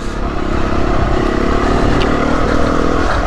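A Beta 390RR motorcycle riding a muddy green lane on the Pilgrims Way in Kent, its engine droning loud and steady close up with a continuous rumble and clattering rough-terrain noise.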